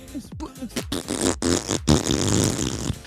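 A person imitating fart noises with the mouth, a quick series of short buzzy blurts and sputters, close and loud, ending in a longer drawn-out raspberry.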